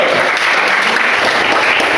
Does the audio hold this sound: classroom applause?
yes